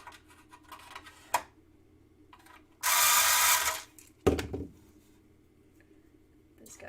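A tool tightens a part of a tumbler under repair, giving a sharp click, a loud sustained whirring burst lasting over a second, then another short burst, with quiet handling noises in between.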